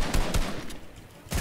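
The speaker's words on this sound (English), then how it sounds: "Do my guns shoot faster when I use a pepper? This P90 is insane." Rapid bursts of P90 submachine gun fire in a Fortnite-style shooter, close and loud, with a few sharp shots clustered at the start and another burst at the end.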